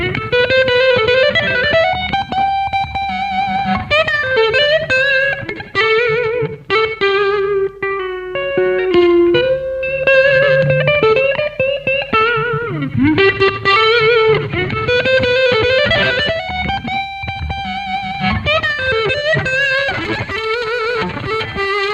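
An electric guitar runs through a DIY tagboard-built effects pedal, playing a continuous distorted, overdriven melodic line with sustained notes and bends, loud and close, with no talking.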